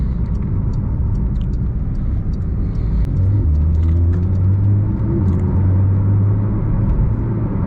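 Porsche 992 GT3 Touring, a rear-wheel-drive 911, heard from inside as a loud, steady engine roar that deepens and builds midway as the car pulls harder under acceleration, with no talk.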